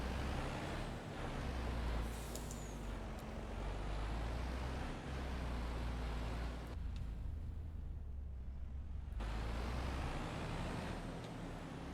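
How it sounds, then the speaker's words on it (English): A Mercedes-Benz Arocs farm truck drives in Farming Simulator 25, with a steady engine rumble running throughout and a sharp air-brake hiss near the start. The sound dips briefly around the middle, then returns to the same droning level. "here's where the Aerox becomes a really good farming truck"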